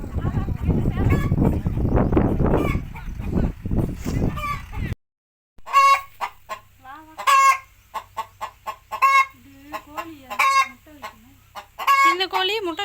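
Village chickens clucking and squawking close by, with a dense noisy stretch of activity first, then a run of sharp repeated clucks and cackles spaced through the rest, with people talking in between.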